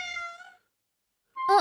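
A cartoon cat meows twice, a long drawn-out tonal meow followed by silence and then a short sharp second meow, close and clear with no talk.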